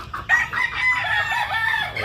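A rooster crows in a single long, loud call close by, with a sharp onset and a sustained, wavering tone lasting about two seconds, heard alone.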